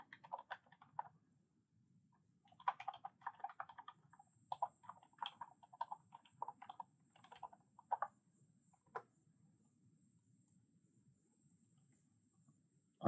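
Soft computer keyboard typing comes in scattered clusters of light clicks with pauses between, faint and close in an otherwise quiet room, ending in one abrupt knock.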